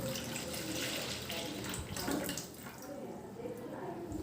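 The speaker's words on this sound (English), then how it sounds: "Now I am pouring this sodium hydroxide solution into a small bucket" Sodium hydroxide solution poured into a small bucket during coconut-oil soap making, a steady close splashing wash of liquid running continuously throughout, with a brief dip midway.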